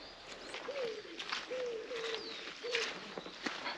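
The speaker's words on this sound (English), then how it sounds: "So there you go, there's one of the bird calls you can hear. All around me I've just heard, obviously that's a wood pigeon" A wood pigeon gives several soft, hooting coos at moderate distance in a quiet nature reserve, its call phrases spaced out over faint background rustle.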